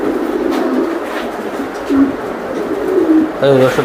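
An aluminium silver racer pigeon coos nearby in a few soft, rolling bursts, clear and close with a faint background hum.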